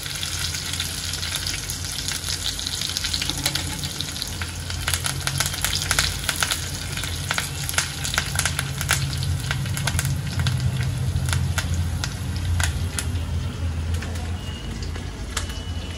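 Green chillies and curry leaves crackle and sizzle in hot oil for a tempering to pour into a cold boondi raita, a dense, steady frying hiss with sharp spattering pops throughout.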